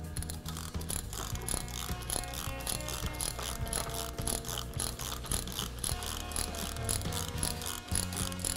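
The lever mechanism of a Safe Roll flange removal tool, a continuous close mechanical clatter of ratcheting and grinding gears with irregular metallic clicks throughout, no talking.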